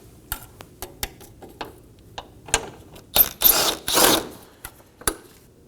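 A ratchet backs out the last 7mm bolt holding the headlight on a 2018-2024 Chevrolet Equinox, a string of sharp, irregular clicks with a brief louder whirring burst in the middle, close and clear.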